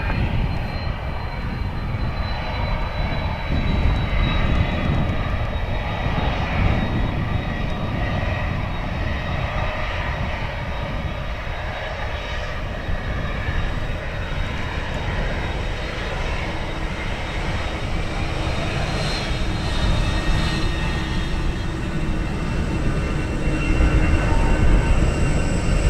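A jet airliner taking off from runway 10 right at Dublin Airport sends out a sustained, heavy engine roar at a distance with a thin whine above it, swelling slightly toward the end.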